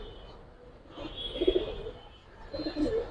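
Pigeons coo in soft, low bursts at a Giribaz pigeon seller's loft, two brief swells of cooing over a faint background hum.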